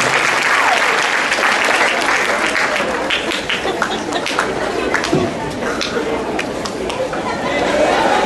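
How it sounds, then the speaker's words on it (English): Loud, sustained applause from a large crowd at a Veterans Day program, with some chatter and cheering mixed into the steady wash of clapping. "round of applause for all of our veterans and for Mr. Dominguez's"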